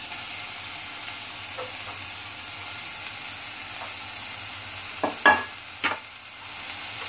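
Two cups of cabbage fry in about a spoonful of hot oil, giving a steady, even sizzle near the mic, with a few short stirring scrapes and clinks toward the end.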